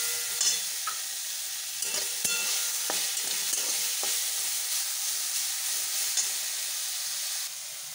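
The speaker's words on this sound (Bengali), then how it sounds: "আমি এখানে পোস্ত দিয়ে দিলাম। আর এই শাকটা দিয়ে দিলাম।" Greens frying in a pan with ground poppy seed paste and a chilli, a steady close hiss of sizzling oil with scattered clicks and scrapes of stirring throughout, quieting at the very end.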